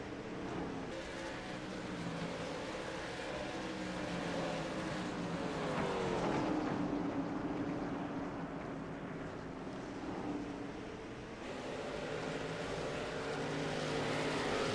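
Race cars at speed on the Stafford oval during a stock car event, a distant, steady engine roar with rising and falling pitch as the cars pass, heard faintly and alone.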